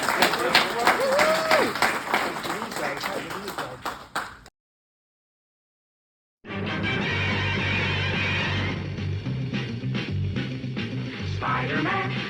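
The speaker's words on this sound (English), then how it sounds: "Please, give a round of applause." An audience at a Spider-Man in Popular Culture conference keynote applauds and cheers, crowd noise with some voices over it, then a sudden pause before music starts at steady volume.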